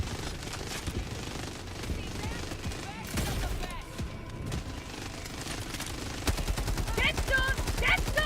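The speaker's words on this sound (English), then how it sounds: "Look how cool those guys are with the miniguns" Miniguns in Helldivers 2 let loose rapid, continuous automatic fire with dense rattling bursts that grow louder near the end, mixed with other battle noise and a voice speaking over it.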